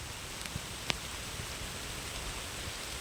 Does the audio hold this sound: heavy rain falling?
yes